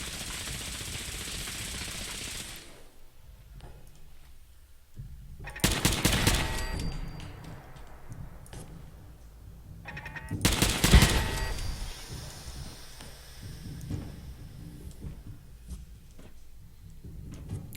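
Automated turrets in Fallout 4 fire two loud, rapid bursts of gunfire several seconds apart, separated by quieter ambient game noise and faint clicks.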